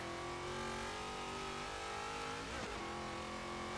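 Car engine in the racing game Forza Horizon 3 holding a steady, faint drone with a slight pitch shift partway, continuous and without talk.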